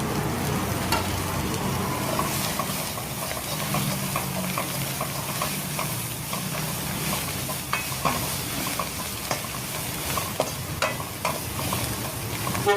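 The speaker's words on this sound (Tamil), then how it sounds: "இந்த வெங்காயத்தையும் கொத்தமல்லியும் இதிலேயே போட்டுடலாம். போட்டு ஒரு அரை நிமிஷம் நல்லா வதக்கி விடலாம்" Onions and coriander sautéing in a pan at a Madurai street stall making mutton leg soup, a steady sizzle and frying hiss with scraping stir clatter throughout, close and continuous.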